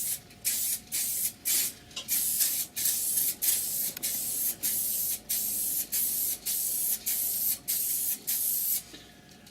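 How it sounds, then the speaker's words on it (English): An acrylic aerosol sealer hisses onto wood stained with spirit stain, with the workpiece mounted on a lathe. Loud, close spray bursts come in a regular rhythm of about a dozen short pulses, each separated by a brief pause. "My personal preference is the acrylic aerosol."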